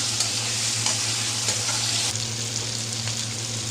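Tomatoes and onions frying in oil in a tawa pan, a steady close sizzle with scraping stirring sounds and no talking.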